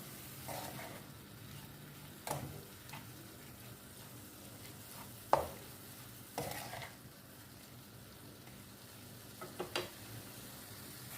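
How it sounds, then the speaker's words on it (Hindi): Chicken pieces sautéing with spices and chilies in a pan, with a faint low sizzle under several sharp clinks and scrapes of a spoon against the pan, close but quiet, with no talking. "2 मिनट इसको हम अच्छे से भून लेते हैं मसालों के साथ"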